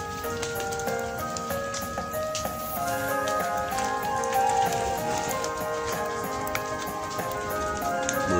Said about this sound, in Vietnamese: Mưa quá các bạn ơi